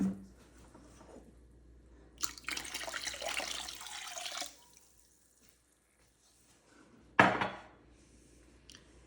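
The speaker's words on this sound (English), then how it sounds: "Then we're going to add 4 additional cups of cold water." Cider and then cold water pour into a container during a smoked turkey brine prep, giving two bursts of splashing liquid: a sustained pour of about two seconds, then a short, louder splash, with quiet in between.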